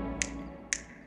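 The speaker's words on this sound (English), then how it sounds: "like snap twice with the Addams Family" Two crisp finger snaps about half a second apart, sharp and close over a quiet television background, from the TV series Wednesday.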